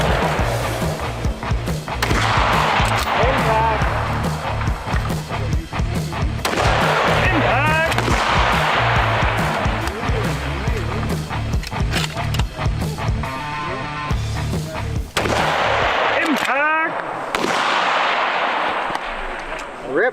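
Centerfire rifle shots at a PRS precision shooting match stage, several sharp loud reports spaced seconds apart, each followed by a ringing tail, amid wind, movement noise and people talking.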